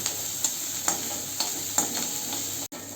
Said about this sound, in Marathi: आता त्याच तेलात आपण कापलेला कांदा टाकूया कांद्याचा कलर गुलाबी होईपर्यंत आपण परतून घेऊ